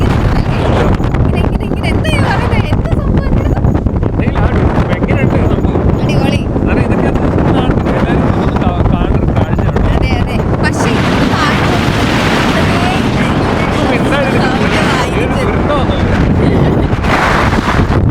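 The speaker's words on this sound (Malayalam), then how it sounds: "അടിപൊളി ബോട്ട് എടുക്കുന്ന നോക്കേ" A boat moving out on the sea near Dhanushkodi, heard as a loud, continuous rush of wind buffeting and water noise that is steady throughout. Voices talk over it at times.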